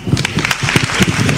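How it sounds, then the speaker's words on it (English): Live applause from an audience at a PechaKucha Night design event in Istanbul, honouring the event director; steady clapping with a low murmur of voices underneath. "So a big applause for her as well."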